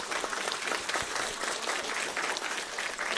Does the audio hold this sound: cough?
no